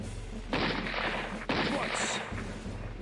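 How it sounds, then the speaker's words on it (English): Gunfire aimed at a fence in Empire Earth II, two loud bursts of shots, each sustained for about a second, rising over low battle ambience, with a brief high tone near the end. "You're really seriously shooting the fence there"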